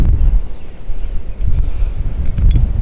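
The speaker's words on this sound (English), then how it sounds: "Today is windy as usual on the ocean" Wind gusting along an ocean coast near Carilo, Argentina at dawn, a steady low buffeting roar that swells and dips without pause and carries no voices.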